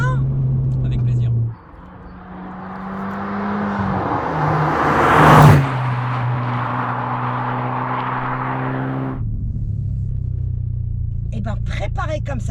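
A modified Audi TT is driven, its engine droning at a steady pitch from inside the car before a louder acceleration swell, then settling back into an even cruising hum, with people talking at the start and end.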